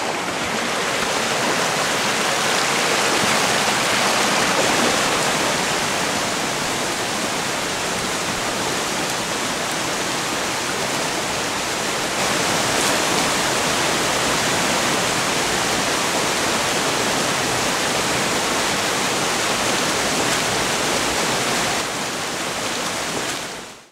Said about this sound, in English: ran into a tributary stream feeding the Torrens River